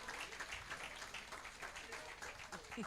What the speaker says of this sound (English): Let's give it to him a big round of applause